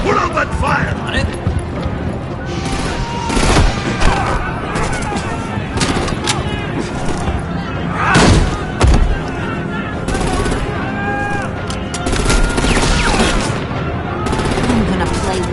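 Enemy gunfire in a Batman video game, loud rattling bursts mixed with explosions and in-game character voices talking throughout.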